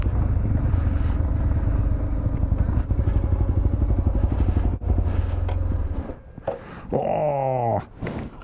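BMW R1150GS Adventure motorcycle engine running close by with a rough, throbbing idle that drops off near the end, followed by brief revving rises and clatter.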